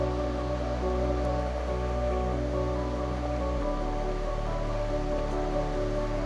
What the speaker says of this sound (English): Getting close to the bottom of the waterfall.